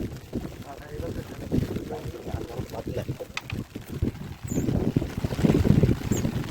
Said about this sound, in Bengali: তারপরে হাওয়া উঠেছে, আমাদের ছোটো নৌকা হাওয়ায় একটু অসুবিধা হচ্ছে।